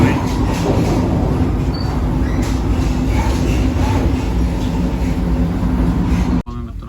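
Inside a moving Vande Bharat train, a steady, loud low rumble of the carriage runs continuously, with faint rattles on top and a brief dip near the end.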